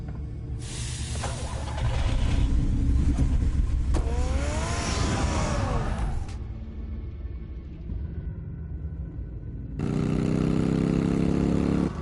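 A car engine in the video game Batman: The Telltale Series, loud steady rumble and rev with hissing noise, dropping off and returning as a lower sustained engine hum.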